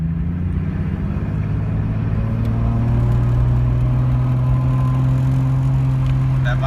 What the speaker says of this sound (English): That vibration you're hearing, if you're hearing it, it's just my gauge gun.